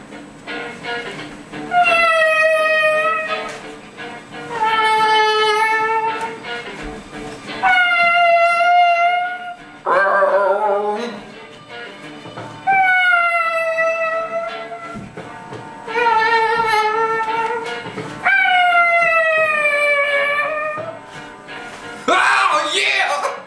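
A voice imitates a whale in a "Hip Hop Whale" impression, giving a run of long, wavering, moaning calls. The calls come in repeated phrases of about two seconds each, loud and close, separated by short breaks.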